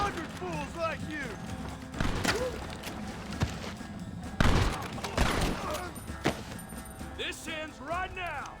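Gunfire in the video game Red Dead Redemption, repeated loud shots and bursts scattered through a battle scene, mixed with shouting voices and game sound effects.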